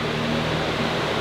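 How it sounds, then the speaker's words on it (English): Several electric household fans, switched on alongside an air conditioner, blow with a loud, steady broadband whoosh and a low hum, unbroken and close, with no talk. "Step two, turn on one of your multiple fans."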